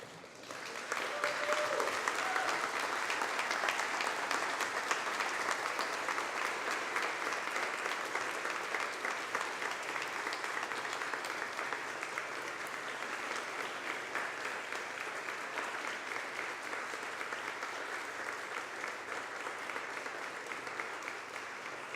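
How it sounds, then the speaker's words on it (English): Sustained applause from a large crowd at a ceremony, starting suddenly and continuing strongly and evenly for a long stretch. "give them a thunderous round of applause"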